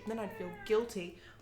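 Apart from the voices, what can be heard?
cat meowing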